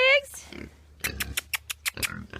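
Farm pigs grunt and oink in a quick series of short, loud snorts, close by, following a person's calling voice at the start.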